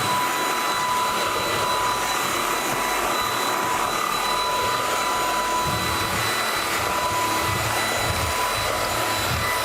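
A cordless vacuum cleaner runs at its highest speed setting, giving a loud, steady whine with a constant tonal hum that holds unbroken and close throughout.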